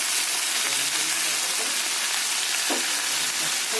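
Ridge gourd and potato dropped into hot oil with lightly fried onion in a pan, a loud, steady, broadband sizzle that holds evenly throughout, close up with a faint brief clink and no talking.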